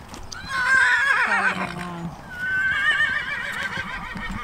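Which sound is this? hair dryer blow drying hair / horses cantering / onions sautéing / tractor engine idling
horses cantering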